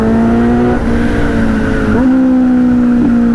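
Kawasaki Z900 superbike exhaust revving loudly and close, a steady droning engine tone with brief blips of throttle changes, on a ride to college, with no talking.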